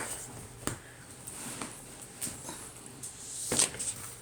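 A dog whimpers and gives a few short, high yips at close range, the soft cries spaced out across a quiet room with no talking.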